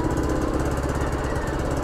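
A motorcycle engine runs at about 10% throttle, a steady, close, low mechanical drone with a rapid even pulse and no voices over it.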